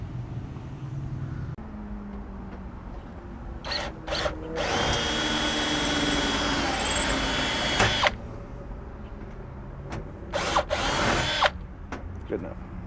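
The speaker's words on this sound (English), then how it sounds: "we're going to drill out our existing toolbox latch and we're going to install our new one from Strattec." Power drill boring out the pop rivets of a pickup toolbox latch, several loud sustained drilling bursts with short gaps between them, close up, with no talking.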